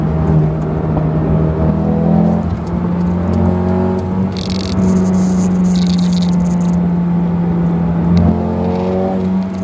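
A Mercedes-AMG A35 4MATIC engine hums and revs up and down in long sweeps, with a burst of crackly noise from the exhaust in the middle.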